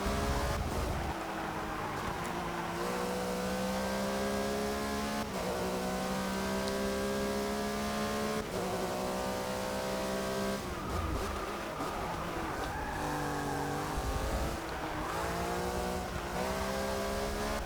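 A Porsche 911 GT3-RSR race car engine in Forza Motorsport 6 screams continuously, climbing through gears with sharp shifts between each rising pitch, and brief tire squeals near the end.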